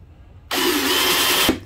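Power drill boring holes through a vehicle's body panel for a snorkel install, starting abruptly as one loud, steady grinding whir that holds for about a second, then briefly stops and restarts near the end.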